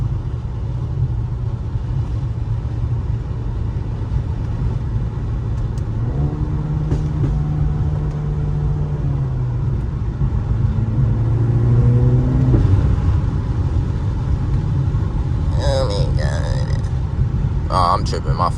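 A Mercedes-AMG engine drones loudly throughout a daytime drive, with rising and falling revs in the middle and a few sharp pops near the end, heard under a voice from inside the car.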